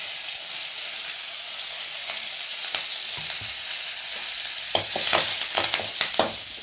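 Mustard seeds, fenugreek, cumin and curry leaves temper in hot oil, a soft steady sizzle that bursts into louder crackling pops and spits toward the end.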